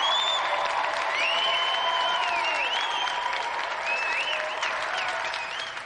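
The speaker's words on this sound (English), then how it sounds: "let's have another round of applause for a brilliant winner, Josie Lawrence" Sustained applause from a large television studio audience, steady and loud throughout, with a faint cheer or whistle rising above the clapping.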